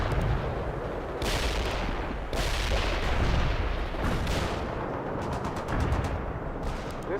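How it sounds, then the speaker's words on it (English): Artillery strike in the World in Conflict video game: a barrage of loud, heavy blasts and rumbling booms, one after another, close and filling the whole span with no talking. "Artillery strike is inbound."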